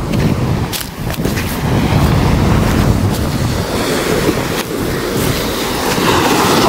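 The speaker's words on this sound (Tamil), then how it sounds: "அலையும் வந்துட்டு கொஞ்சம் ஆக்ரோஷமாக இருக்குது பாருங்க" Rough, choppy sea waves wash continuously onto a beach with seaweed on the shore, a loud, steady surge heavily buffeted by wind on the microphone, with no one speaking.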